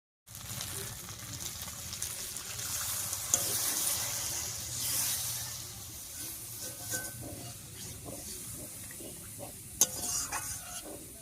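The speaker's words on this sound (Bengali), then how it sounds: "এবার একটুখানি জল দেবো।" Shrimp curry in a pan as a little water goes in, producing a close, steady hiss and bubbling simmer with occasional spoon scrapes and a couple of sharp clinks against the pot.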